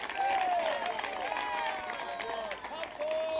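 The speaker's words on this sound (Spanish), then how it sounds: "Mira, así están aplaudiendo algunos, mire." Pentecostal congregation at an evangelistic church campaign claps along, scattered hand claps at a moderate distance mixed with voices and sustained tones, fairly quiet and uneven throughout.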